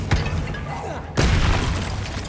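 Confringo blasting spell explosions in Hogwarts Legacy: two heavy, booming blasts, the second landing about a second after the first, each followed by a crackling rumble over game background noise.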